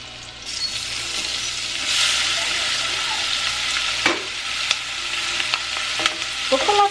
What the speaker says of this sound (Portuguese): Vou colocar aqui, vou refogar aqui um pouquinho de alho.